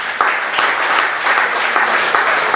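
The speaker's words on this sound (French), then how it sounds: "merci de les applaudir" An assembly audience applauds: close, loud, continuous clapping from a roomful of people, sustained without pause.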